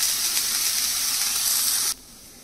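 Chopped onion sautéing in oil for a barley vegetable daliya, a loud steady sizzle with a brief stir that cuts off abruptly to a faint hiss near the end.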